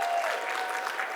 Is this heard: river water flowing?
no